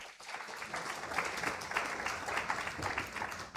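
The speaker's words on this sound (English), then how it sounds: "That's not supposed to be an applause line." An audience breaks into applause during a talk, many hands clapping in a sustained, rolling wave that swells and holds at moderate loudness, with a voice faintly present underneath.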